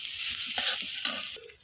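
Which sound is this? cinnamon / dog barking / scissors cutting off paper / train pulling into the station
cinnamon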